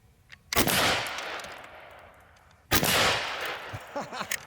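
Two loud, sharp reports from a Seneca Recluse 2 .357 big-bore PCP air rifle, about two seconds apart, each followed by a ringing decay and echo, close to the listener.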